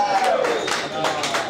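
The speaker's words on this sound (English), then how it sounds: "Give yourselves a round of applause." Crowd at a metal gig by The Plague in Marrickville Bowlo roaring and applauding, a dense wash of cheering and clapping that swells in bursts across the short stretch, with a thin sliding tone riding over it.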